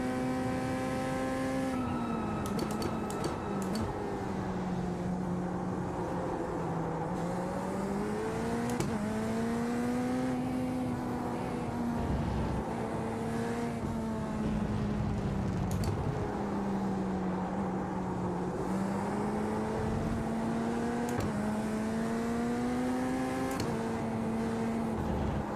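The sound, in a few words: racing video game car engine at full throttle through corner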